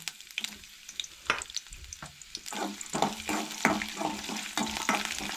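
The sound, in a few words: garlic and ginger frying in oil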